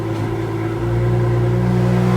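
A 2017 BMW F87 M2 engine fires up and settles into a loud, steady idle that rises slightly in pitch, heard close with a constant low rumble and no talking.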